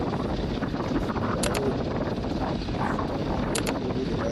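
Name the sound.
drone flying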